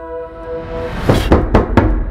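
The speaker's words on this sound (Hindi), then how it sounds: "कोई हमारे डेडपूल भैया के रूम का दरवाजा खटखटाता है।" Three sharp knocks land on a door in a Deadpool & Wolverine film scene, loud and close, following a sustained tonal swell of score and coming in a quick, evenly spaced sequence.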